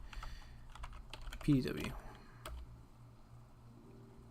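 Computer keyboard keys clatter in quick bursts while entering shell commands during a coding session, close and moderately quiet, with a speaking voice over the typing.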